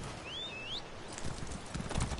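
In The Elder Scrolls Online, a horse gallops with soft, rapid hoofbeats that build toward the end, alongside a short whistling bird-like chirp early on. The sound is faint and carries no speech.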